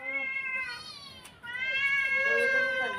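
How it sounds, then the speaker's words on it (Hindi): A house cat gives two long, drawn-out meows close by, the second louder and wavering, with no speech over them. "ये बिल्ली है ना, इतना ज़्यादा परेशान करती है आजकल हमें"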